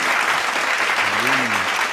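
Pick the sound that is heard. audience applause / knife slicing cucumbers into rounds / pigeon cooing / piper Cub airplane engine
audience applause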